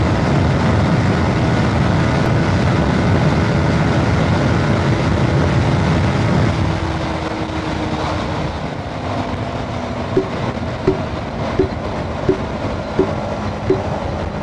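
A Yamaha YZF-R15 155cc motorcycle runs at full throttle in fifth gear on a highway, a loud continuous engine and wind roar that eases slightly partway through, then carries a few short regular ticks near the end.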